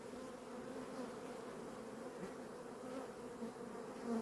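Honeybees buzzing around an open, expanding beehive as frames are added, a steady close hum with layered droning tones and occasional louder passes of individual bees, no voices.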